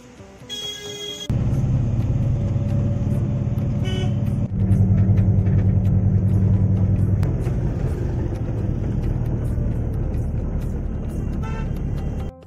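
An almost empty early-morning bus runs from Dharapur to Kamakhya Ghat through traffic. Its engine drones steadily and loudly throughout, and vehicle horns toot sharply at the start, again around the middle and near the end.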